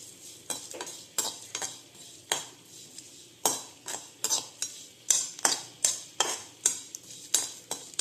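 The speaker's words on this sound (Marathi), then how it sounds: "बडीशोप विलायची थोडं भाजून घे" Fennel seeds and cardamom dry roasting in a pan, a quick run of sharp rattling scrapes as a spoon stirs them, steady and rhythmic, close and alone with no talk.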